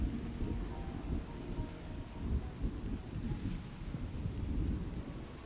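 Thunderstorm rain in the Starfield video game, with a heavy steady downpour and low rumbling thunder that rises and falls across the whole stretch, loud and enveloping with no voices.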